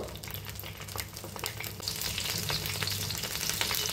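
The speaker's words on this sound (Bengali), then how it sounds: "হাই ফ্লেমে 1 মিনিট ভেজে নেব" Hilsa fish frying in a pan over a high flame, a steady loud sizzle with crackling spits that grows denser and brighter partway through, with no voices.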